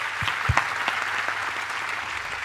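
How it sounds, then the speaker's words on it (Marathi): Applause from an audience at a discussion event welcoming Dr. Vinaya Jangle, a steady wash of hand claps with a few sharper near claps and a low hum beneath. "जोरदार टाळ्या होऊ देत"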